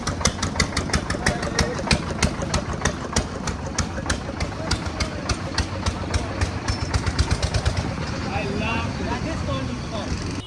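A stripped-down car, little more than a bare engine, idles loudly at a roadside gas station in India, its rapid even exhaust pulses beating steadily and close, with the rhythm roughening near the end.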